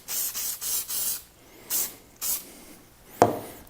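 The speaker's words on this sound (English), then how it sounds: "All I'm going to use is this 3M General Purpose 45 adhesive spray." 3M General Purpose 45 adhesive spray hisses in several short bursts, about four quick sprays close by, used to tack material down to wood, with a sharp tap near the end.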